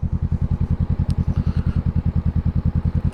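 A Honda Rebel 500 motorcycle with a Shorty GP exhaust and baffle idles with a deep, rapid, even pulsing thump, loud and close, steady throughout with no speech.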